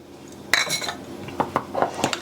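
A spoon scrapes and clinks against a bowl while chopped pecans are stirred into thick maple icing for pumpkin bread, giving a run of close, irregular knocks and scrapes.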